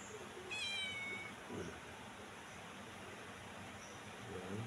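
A pet cat meows once, a clear drawn-out call, followed by quieter noises at home over a faint, steady background.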